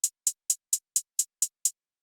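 Trap hi-hats in a beat, filled every two steps: eight crisp, bright ticks in an even rapid row, then they stop, heard alone and up close.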